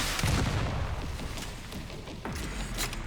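Zombies firing mortars in Resident Evil Requiem produce booming, rumbling launches and impacts, loud and dense, with a sharp thud midway through the short stretch.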